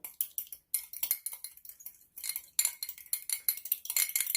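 Cake mix, softened butter and an egg are being stirred and beaten in a bowl for brownies, giving a run of quick scraping clinks of utensil against bowl in short bursts with brief pauses, close and moderately loud, with no talking.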